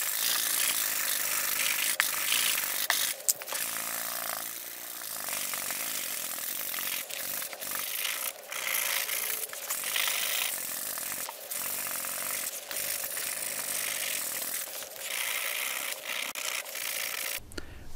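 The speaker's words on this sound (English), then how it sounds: "We only want to sand the body fillers with the 80 grit sandpaper" Body filler on a car bumper being sanded with 80 grit sandpaper, a continuous close scratchy rasp of rapid back-and-forth strokes with brief gaps, carrying on steadily throughout.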